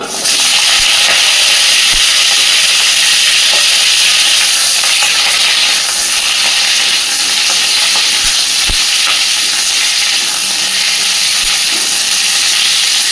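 Potato and cauliflower pieces sizzle loudly and steadily in hot oil in a wok, a dense continuous hiss filling the whole stretch up close, with occasional faint clicks and no voices.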